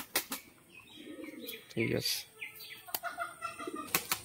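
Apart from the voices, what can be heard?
pigeons flapping wings as they are released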